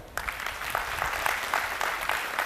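An assembly gives a burst of applause, a dense patter of many hands clapping at moderate loudness that holds evenly for a couple of seconds.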